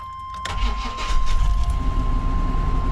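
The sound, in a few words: service truck engine running with a misfire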